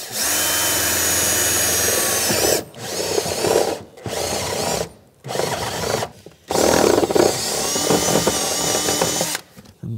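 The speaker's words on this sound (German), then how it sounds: "Wir bohren jetzt schon mal die andere Seite." A power drill whirs loudly in several bursts, stopping and restarting with short gaps between runs, close by and with no talking.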